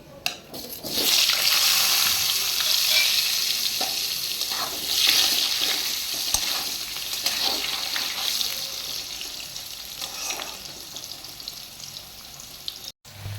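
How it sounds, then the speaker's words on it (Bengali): Cut potatoes fry in a pan for a bata fish curry, giving a sizzling hiss with stirring scrapes and clatters that rises and falls over several seconds, with no talk. "আমি আলুগুলো একটু ভালো করে লাল লাল করে ভেজে নেব।"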